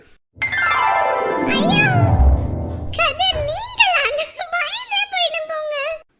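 A cat gives one long, drawn-out meow that slides downward in pitch, and lively chatter and giggling voices follow close by.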